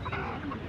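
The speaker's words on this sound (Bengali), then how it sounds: "এই যে এখানে এক ভাই এক খাঁচা মুরগি নিয়ে আসে বড় ভাই দেশি নাকি কোন জেলার মুরগি এগুলো" Native chickens in a cage at a village market in Bangladesh cluck softly and continuously, several birds overlapping against a murmuring crowd background at moderate distance.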